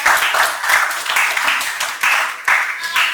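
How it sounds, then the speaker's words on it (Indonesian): Classroom audience clapping for a student presenter during a teaching practice session, a short burst of dense applause with uneven swells that stays fairly close and steady throughout. "Kasih tepuk tangan dulu buat Mas ya"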